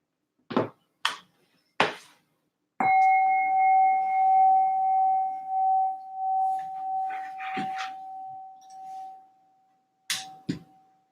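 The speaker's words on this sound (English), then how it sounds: "One more time, one more bell for everybody." A single bell is struck once and rings out in a long, steady, clear tone that slowly fades, with a few brief sharp knocks and handling sounds before and after.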